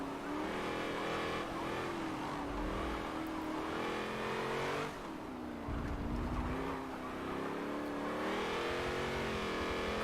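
Race car engines revving and shifting in Forza Motorsport 7, a Camaro roaring past with rising and falling pitch, loud and close, with a brief swell of another engine midway.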